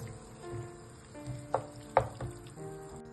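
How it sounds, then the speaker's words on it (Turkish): Chicken sautéing in cream in a pan, a soft continuous sizzle with a couple of louder stirring clinks against the pan, close and alone. "Şimdi üzerine biraz önce püreden arta kalan kremamızı ilave ediyoruz. Bu şekilde de kremayla birlikte pişirmeye devam edeceğiz."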